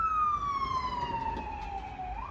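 An ambulance siren wails past on a street, a single steady tone gliding slowly downward as the vehicle moves away, then jumping up at the end, loud over road rumble.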